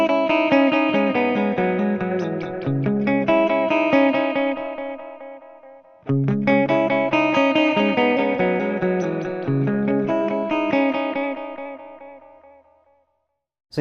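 Guitar licks run through a Tapex 2 tape echo pedal in choice mode, two bright phrases each trailing off in crisp, closely spaced repeats that fade to silence, with no talking.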